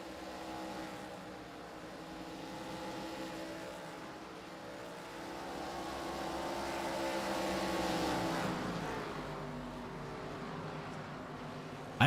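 Several stock car engines drone and rise in pitch together in a sim racing game at Bristol, a steady near roar swelling and fading as the cars circle, with no talk.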